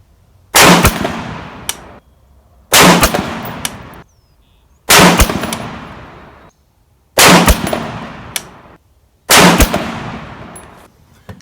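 Five loud rifle shots from an RRA 20-inch varmint rifle at a 100-yard range, evenly spaced about two seconds apart. Each sharp report rings out and decays for over a second, with no talking.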